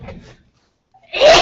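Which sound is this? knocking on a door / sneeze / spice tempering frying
sneeze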